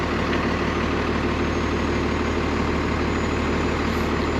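A city bus idles in traffic with a steady, loud low engine rumble and even drone, close by and unchanging throughout, with no talk.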